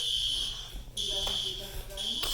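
A building fire alarm sounding in repeated shrill, high electronic tones with brief gaps between pulses, loud and near over a low background hum.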